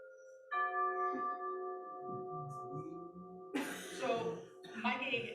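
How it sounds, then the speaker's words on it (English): Large tuning chimes, like oversized tuning forks, ring with steady, sustained metallic tones that hang in the air, followed by a burst of louder, busier sound with voices. "those are actually tuning chimes"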